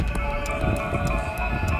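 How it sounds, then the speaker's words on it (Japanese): A JR 321 series rapid train bound for Kizu pulls into underground Osakatenmangu station, with a low steady rumble, sustained tonal whine and regular rhythmic clacks of wheels over rail joints, close and fairly loud. "大阪天満宮駅に入ってきた列車は、はい、321系の区間快速木津行きです。"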